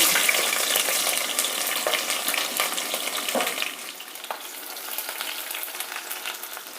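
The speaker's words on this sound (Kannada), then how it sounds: "ಈಗ ಈರುಳ್ಳಿ ಹಾಕ್ತಾ ಇದ್ದೀನಿ" Onion dropped into hot oil with mustard seeds, cloves, cardamom and a piece of cinnamon for tempering, a steady close sizzle with stirring scrapes that settles slightly quieter partway through.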